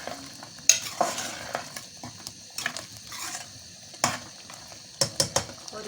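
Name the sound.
stirring bhindi gosht curry with salt and masala in pot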